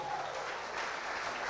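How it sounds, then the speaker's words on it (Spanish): A youth camp congregation applauds, producing a steady, dense wash of clapping that holds at an even level throughout without pauses. "Pues darle un aplauso a él"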